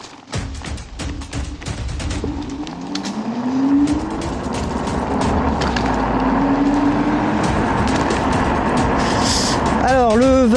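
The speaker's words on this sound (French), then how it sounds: "je vais me mettre à 25 km/h et arriver à la caméra, et je vais freiner dessus" Duotts D99 electric scooter, a 6000W 60V machine, rides up at about 25 km/h and brakes hard near the camera, with a rising wind-blown motor drone and a brief squeal near the end.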